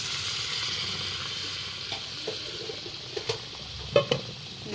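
Boiled potatoes and peas stirred into frying masala in a pan, a low even sizzle with a few soft scrapes and taps toward the end, quiet and without voices.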